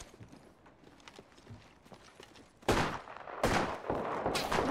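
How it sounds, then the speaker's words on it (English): Gunfire in the Apex Legends battle royale game: three loud broadband bursts of shooting arrive in the second half, after a quieter stretch of soft clicking and movement. "I'm spotted. Taking fire."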